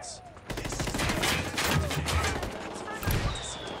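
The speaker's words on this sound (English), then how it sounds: "Opening fire on these fuckers." Gunfire in the video game Ghost Recon Wildlands comes as a loud, sustained burst of rapid shots and thuds lasting a few seconds, with heavier impacts near the end.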